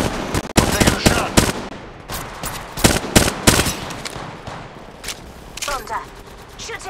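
Rapid gunfire in the mobile battle royale game Apex Legends Mobile, dense overlapping shots in quick bursts with short gaps, loud and up front, ending with a softer chirping game effect.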